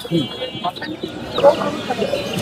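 A three-to-three-and-a-half-month-old farm-raised rooster clucks at a rural chicken market, short close clucks amid a busy background of other birds and people talking nearby.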